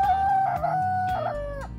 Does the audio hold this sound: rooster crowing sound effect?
yes